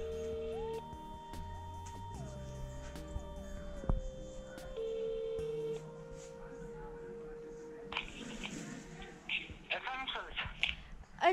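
A telephone call being dialed: rising and falling electronic tones and short beeps from the handset, then ringing-like tones, with voices talking softly underneath and briefly near the end.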